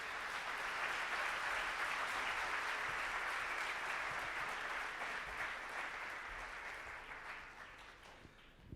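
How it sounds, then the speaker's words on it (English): Audience at an international students' conference for chartered accountants applauds panelists: dense, sustained clapping that holds steady, then slowly tapers off toward the end. "can we have a big round of applause for all the panelists who have come today?"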